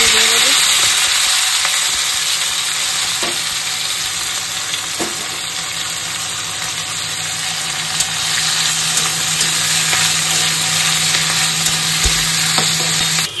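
Chopped garlic sizzles steadily in a hot pan with oil, a continuous bright crackle. Faint stirring scrapes occasionally sit under the frying, and nobody speaks.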